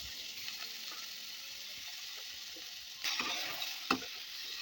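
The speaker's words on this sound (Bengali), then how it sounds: "ওই তেলের মধ্যে ফুলকপিগুলোও ভালোভাবে ভেজে নেব।" Cauliflower frying in hot oil in a pan after potatoes, a soft steady sizzle with a few faint stirring scrapes near the end.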